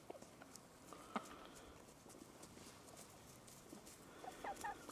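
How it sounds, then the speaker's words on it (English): Chickens clucking and squabbling in a small farmyard fight, faint and scattered against outdoor background noise, with a few short sharper calls near the end. "Oh, chicken fight."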